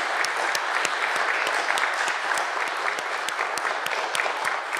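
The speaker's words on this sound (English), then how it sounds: "I would like you to invite you to share with me the applause for Karen once more" Audience at Karen Sandler's talk on software rights gives sustained applause, a dense even wash of clapping with a few sharper individual claps standing out.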